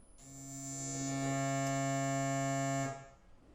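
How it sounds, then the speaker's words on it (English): An e-bike hub motor under a VESC controller's resistance and inductance measurement gives off a steady, loud electronic buzzing tone that swells in, holds for about three seconds, then cuts off, with no talking. "You're going to hear weird noises from your motor"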